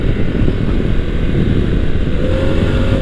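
A Harley-Davidson motorcycle engine is revved hard close by, a loud, dense, steady roar that holds throughout with no pause.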